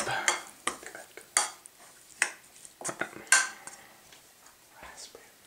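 Homemade shisha tobacco being mixed with molasses and flavor extract in a bowl, giving close, sharp clinks and scrapes of a utensil against the dish in an uneven rhythm, with quiet, sticky stirring between strikes.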